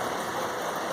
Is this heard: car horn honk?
no